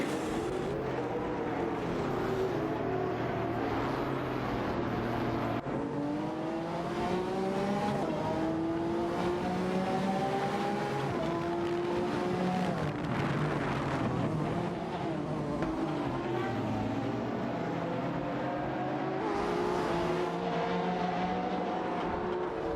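Zenvo and Lamborghini Aventador engines from a racing video game roar together, their wavering harmonic whines rising and falling as the two cars dice closely, loud and continuous throughout with no talking.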